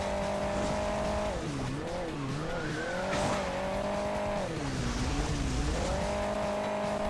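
In the Hill Climb Racing 2 mobile game, an un-upgraded car's engine drones continuously, its pitch swooping up and down as the car climbs and drops over hills, loud and steady throughout without speech.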